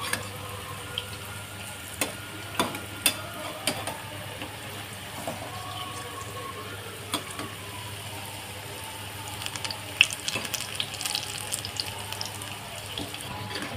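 Palm fritters (taal phuluri) fry in hot oil with a steady, broad hiss throughout, sprinkled with small crackles and pops, louder toward the end, and no voices.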